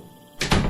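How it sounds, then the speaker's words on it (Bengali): A heavy wooden door swings open on a rainy night, giving a short, fairly loud creak and thud that rises suddenly after a quiet moment and carries on briefly. "নিচে এসে কাঠের ভারী দরজাটা খুলে দিল"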